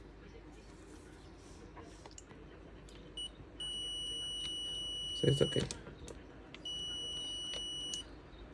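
Steady high multimeter continuity beeps sound twice, each lasting about a second or two, testing a VW Golf 5 GTI door latch micro switch, with someone speaking briefly in between and some clicking handling noise.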